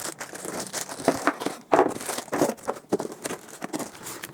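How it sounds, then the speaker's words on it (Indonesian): Packaging crinkles and rustles as a Dongcheng DCSP02-180 polisher is unboxed: irregular, close bursts of plastic and paper handling with brief tearing-like crackles, fairly quiet and with no talk. "Kita langsung unboxing. Kita keluarkan dulu semuanya ya."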